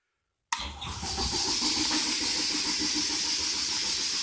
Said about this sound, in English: But maybe I'll turn the compressor back on.